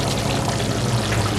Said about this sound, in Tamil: இந்த தண்ணி இதில் விடுங்க.